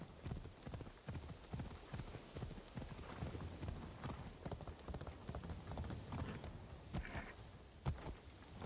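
In Assassin's Creed Shadows, horse hooves clip-clop at an even walking pace, close and fairly quiet over soft outdoor game ambience.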